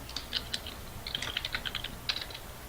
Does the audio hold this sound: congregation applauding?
no